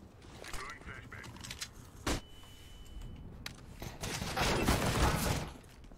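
Gunshots crack in a team shooter video game during a league match, a sharp single shot followed by scattered bursts and a denser volley of fire, moderately faint, with low muffled voices underneath.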